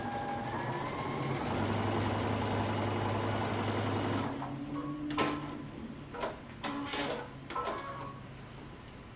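A sewing machine top stitches coat fabric, its needle running in a steady, fast mechanical drone for about four seconds, then stopping; after that come a few short clicks and handling knocks.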